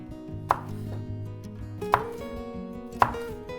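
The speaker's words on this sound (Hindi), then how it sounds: "ग्रीन चिलीज भी काट लेते हैं।" A knife chopping green chilies slantwise on a board while making veg fried rice, with three sharp, distinct chops spaced about a second apart over a steady low hum, close and without speech.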